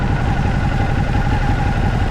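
A Ducati Hypermotard motorcycle engine idles steadily nearby, a continuous low rumble with a faint mid-pitched hum, no voices.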